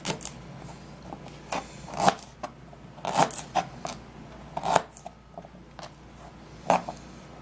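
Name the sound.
cutting ginger into tiny pieces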